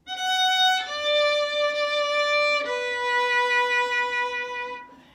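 A solo violin plays three sustained notes in succession, each bowed smoothly with a clear change of stroke between them.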